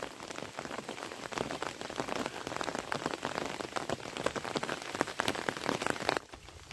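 The first monsoon rain pours steadily onto a village canal during net fishing, a dense, loud, unbroken patter that thins out abruptly near the end.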